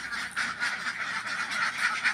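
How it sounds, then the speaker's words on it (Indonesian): A flock of egg-laying ducks from a 200-bird farm pour out of their pen in the morning, quacking in a dense, continuous chorus that stays steady and fairly close throughout, with no voices. "sambil saya keluarkan bebek saya ini dari kandang"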